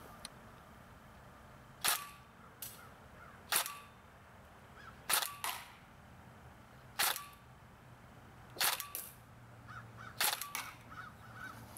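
An Elite Force M4 airsoft rifle fires outdoors through a chronograph with 0.20 gram BBs, giving about eight sharp, separate single shots at irregular intervals, a second or so apart, over a quiet background.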